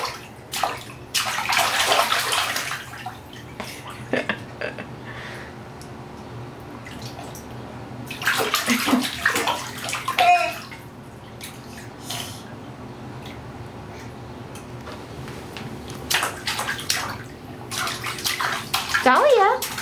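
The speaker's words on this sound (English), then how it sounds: "Are you splashing? Are you splashing?" A baby splashes water in a big bathtub during a bath, with bursts of sloshing and splashing in several clusters, loud and close, while an adult talks in between.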